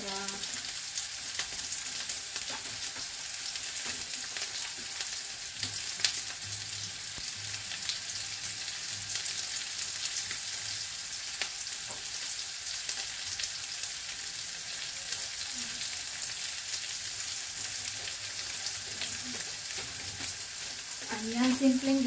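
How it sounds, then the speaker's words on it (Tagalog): Onions sauté in a hot pan with a continuous dense sizzle and crackle, close and steady throughout, with occasional stirring and faint talk in the background. "simpleng gisa lang po ito"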